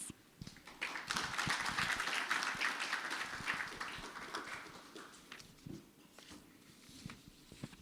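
Audience applause greeting a speaker at the opening ceremony of an international symposium, building quickly into a full roomful of clapping, peaking early and then thinning out into scattered claps toward the end.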